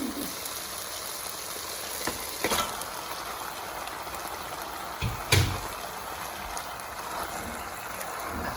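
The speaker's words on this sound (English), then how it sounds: "So onions are slightly brown, so we're gonna add the meat." Meat dropped into a pot of slightly browned onions frying for akhni, giving a steady hiss and crackle with a couple of brief clattering thumps near and alone.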